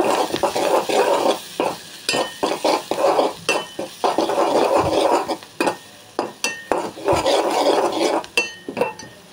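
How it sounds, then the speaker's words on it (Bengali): Turmeric and spice powder are stirred into fried sweet pumpkin in a pan. A spatula scrapes the pan in loud, rhythmic strokes over a light sizzle, with occasional metallic clinks. "একটুখানি হলুদের গুঁড়া, একটুখানি মশলার গুঁড়া দিয়ে দিলাম। নেড়ে ছেড়ে নিব।"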